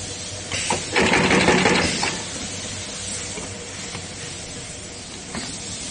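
A DS box stitcher running in dual-servo mode gives a loud mechanical burst of stapling, then settles into a quieter clicking and hissing hum with a few soft knocks.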